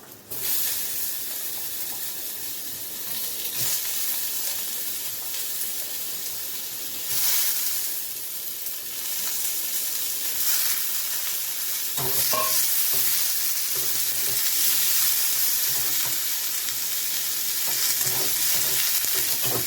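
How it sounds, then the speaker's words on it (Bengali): Boiled potatoes fry in a pan with oil for a raw jackfruit and small prawn dish. A loud, continuous sizzle is heard with stirring scrapes and a few utensil knocks, and nobody speaks. "একটু আলুগুলো ভেজে নিই, যে আলুগুলো সেদ্ধ করেছিলাম"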